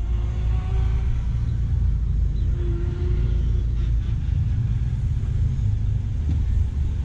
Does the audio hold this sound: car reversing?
yes